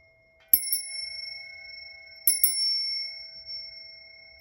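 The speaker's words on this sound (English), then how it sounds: "I'm about to ring this bell." A hand bell is struck twice, about two seconds apart, each strike leaving a clear, bright ringing tone that sustains and slowly fades, with no talking.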